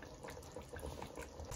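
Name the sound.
chicken boiling in water for biryani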